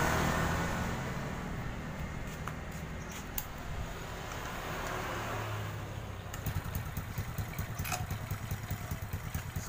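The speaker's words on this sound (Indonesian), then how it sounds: "Oke, sekarang kita akan hidupkan." A Honda Supra 125 motorcycle with a rough-running fault is kick-started with no throttle, then its engine settles into a close, steady, rapid idle chatter, with no talking.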